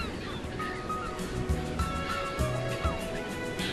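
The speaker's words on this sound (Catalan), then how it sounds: "hem aconseguit aplegar una certa quantitat de gavina corsa" A flock of Audouin's gulls calls from the sea beside a boat, a few nasal honking cries rising over steady engine and water noise.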